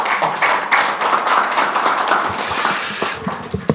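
Audience clapping at a policy debate forum in Korea as a lawmaker is welcomed to the podium, a dense, steady patter of hands filling the room, fairly close and continuous with a few sharper individual claps.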